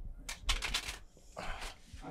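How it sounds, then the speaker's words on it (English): A deck of playing cards is riffled and shuffled in quick, close bursts of flicking card sounds, with a short pause between attempts and a voice speaking faintly underneath. "Give the deck a shuffle as much as you want."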